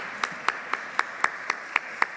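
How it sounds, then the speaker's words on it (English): A small group at a church worship service claps in a steady, even rhythm, about eight crisp claps spaced evenly over two seconds with nothing else around them. "Give yourselves a round of applause."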